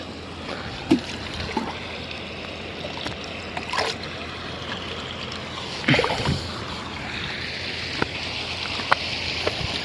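Water splashing and trickling into a container at an outdoor source, an irregular close wash of drips and splashes with sharper spills that rise and fall, with no voices.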